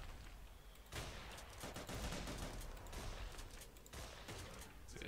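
Shotgun fire in the video game PixelForces, a rapid series of loud blasts and bursts running nearly continuously, up close, with no talking.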